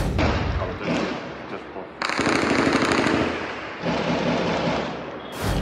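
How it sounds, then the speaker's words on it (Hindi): Bursts of rapid automatic gunfire crackle loudly, with rumbling thuds and a steady noisy background between the volleys. "वीडियो में आप गोलीबारी की आवाजें सुन सकते हैं"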